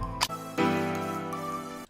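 A harsh synth lead in a song, bright and buzzy sustained tones that enter after a brief click and hold steadily at moderate level for over a second, with no voices.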